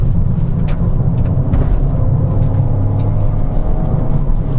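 A Peugeot 208 GT Line with a 100 hp PureTech petrol engine and six-speed manual gearbox accelerates uphill in third gear, its engine making a loud, steady drone inside the cabin with no talking.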